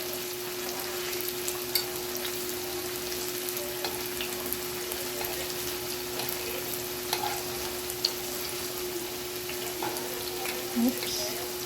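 Tofu frying in a pan during home cooking, a steady broadband sizzle with occasional pops and crackles, a faint steady hum underneath, and no clear voice.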